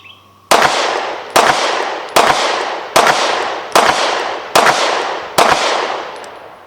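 Seven sharp, loud shots from a PTR Archon B Gen 2 pistol crack out at an even, steady pace, each followed by a short echoing decay.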